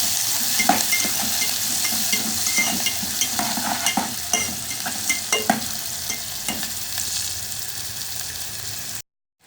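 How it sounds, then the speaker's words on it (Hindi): Finely chopped onion, tomato and green chili sizzle steadily in a pan for a noodle recipe, with a spoon scraping and stirring in uneven taps throughout, close and fairly loud, before a sudden cutoff. "अब इसमें प्याज, टमाटर और हरी मिर्चें बिल्कुल बारीक कटी हुई ये शामिल करेंगे और इनको अच्छी तरह से 2 से 3 मिनट तक भूनेंगे"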